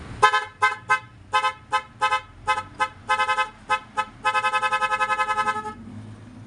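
Loud twin car horn, wired with a horn relay and interrupter relay, honks in a rapid series of short blasts, then a longer burst of quick repeated toots before stopping, with no voices.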